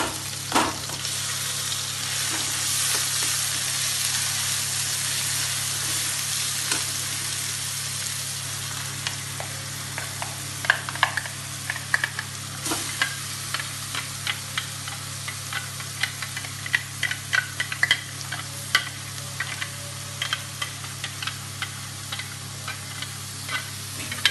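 Masala spices sizzling while frying in hot oil with mustard seeds, a steady hiss with sharp pops and crackles that grow more frequent in the second half, close and alone.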